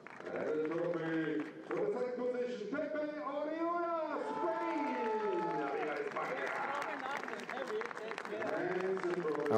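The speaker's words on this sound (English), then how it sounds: "And the biggest cheer for Michel Nukier from Target Competition" Crowd cheering and applauding at a touring car race trophy presentation at the Salzburgring, with a loud announcer speaking over the steady applause throughout.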